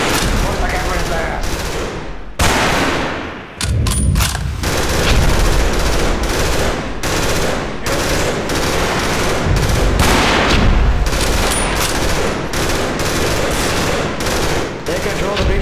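Heavy gunfire, with sustained machine-gun bursts and rapid volleys of shots, roars loud and close almost without a break, with only a few short pauses between the barrages.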